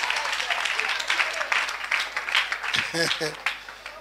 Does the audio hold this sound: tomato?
no